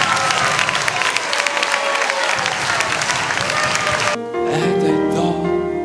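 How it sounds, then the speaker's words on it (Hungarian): An audience at a summer school camp on the shore of Lake Balaton applauds loudly and steadily. The clapping is dense and close for about four seconds, then gives way to a quieter musical backdrop. "Fogadjátok nagy szeretettel és nagy tapssal"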